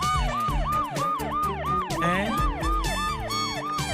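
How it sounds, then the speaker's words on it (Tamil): A police siren wails in quick, repeating up-and-down sweeps, loud and close, over a low vehicle rumble. "உங்களுக்கு சைரன் சத்தம் கேட்டுச்சா சார்? அது ஏதோ ஆம்புலன்ஸ் நினைக்கிறேன்."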